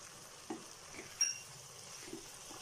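Turmeric and red chili powder are stirred into softened potatoes in a pan over a faint sizzle, with a few soft spoon scrapes and one sharper clink.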